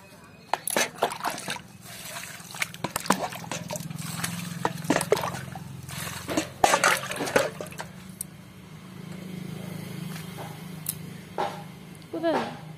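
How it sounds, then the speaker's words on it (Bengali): Water poured and splashed while someone washes sandy feet, heard as bursts of pouring and sloshing close by, with people talking over a steady low hum. "আমি একটু পা ধুয়ে আসি"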